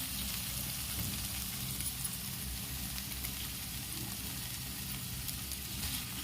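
Curry leaves sizzle in hot oil in a pan of softened tomato for sabudana khichdi, a steady, close crackling hiss that holds evenly throughout with no voices.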